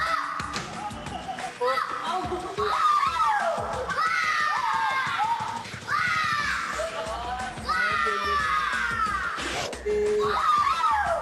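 Children shout and cheer together on a kids' magic-show TV set, loud bursts of excited high-pitched voices rising and falling in waves with a crowd-like roar between them.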